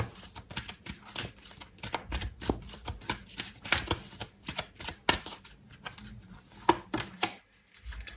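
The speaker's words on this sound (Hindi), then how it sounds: "एक फाइनल कार्ड निकाल लेते हैं।" Tarot cards give a close run of quick, papery riffles and flicks during shuffling, with a few softer slaps as cards are drawn and laid down, and no voice.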